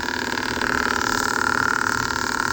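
A Neopixel Proffieboard lightsaber staff hums with a throaty, loud, steady buzz that pulses rapidly, swelling slightly in volume partway through.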